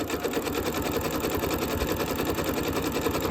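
A sewing machine runs fast, stitching butted fabric scrap strips together, giving a rapid, steady mechanical chatter that goes on without a break, close and fairly loud, with no talking.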